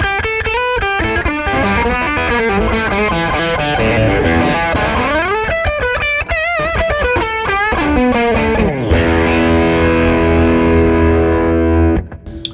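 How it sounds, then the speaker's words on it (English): Electric guitar on its bridge pickup, switched to humbucker mode and run through a pedal, plays a loud, heavily distorted run of fast notes and bends, ending in a sustained chord that cuts off abruptly. "I had it on the bridge with it switched to humbucker mode through a pedal"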